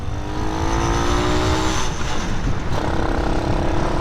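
A Grom clone motorcycle engine fitted with a Nibbi carburetor revs loudly and steadily up close, rising and holding through the rev with no talk over it.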